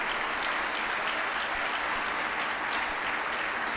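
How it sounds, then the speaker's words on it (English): Steady, dense applause from a large audience at an economic development event as statewide elected officials stand: continuous loud clapping across the whole span, with no voices on top. "let us give you a round of applause."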